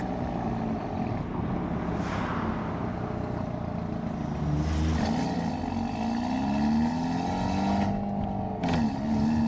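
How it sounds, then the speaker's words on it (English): A car fitted with a downpipe idles with a deep, raspy exhaust note, blipping and revving a few times, loud and close, with no talking. "Definitely still sounds like I have an exhaust on this thing."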